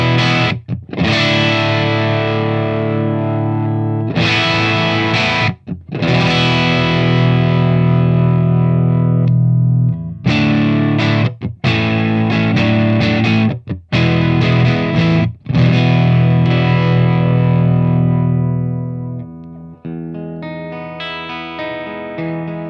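High-gain electric guitar played through an Ashdown Fallen Angel 180 all-tube amp, heavily distorted chugging riffs and sustained power chords in loud bursts separated by short stops, ending on a sparser ringing phrase.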